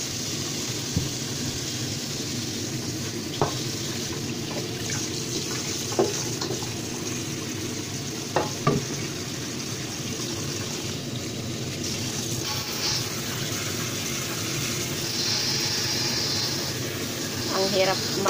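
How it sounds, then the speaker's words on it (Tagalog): Cold tap water runs steadily into a kitchen sink to rinse cooked Chinese noodles, a soft continuous wash with a few clinks, while a person talks over it. "we need to rinse in cold water"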